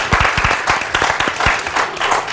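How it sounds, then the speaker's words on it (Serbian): A short burst of applause from an audience, brisk clapping that stays fairly loud and even throughout. "aplauz jedan za braću"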